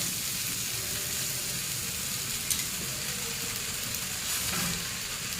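Winter vegetables with eggplant fry in a pan, a continuous close, broad sizzle with steady hiss, and faint scraping knocks from stirring partway through.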